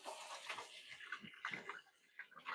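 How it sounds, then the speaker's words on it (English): Hands are rinsed under a running kitchen tap between steps of pan-frying chicken, a steady splashing water stream that rises and falls in close, moderate bursts, with no talking. "I'm going to give my hands a quick rinse here"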